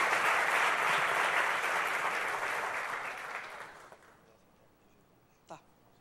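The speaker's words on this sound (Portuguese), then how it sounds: "Você pode dar uma salva de palmas ao teu rei?" A church congregation applauds in a dense, sustained wash of clapping that gradually fades out over several seconds, leaving near silence broken by a single faint knock.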